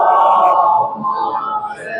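A congregation at a Muharram majlis in an imambargah recites salawat aloud in unison, a dense, sustained wash of many voices filling the hall throughout.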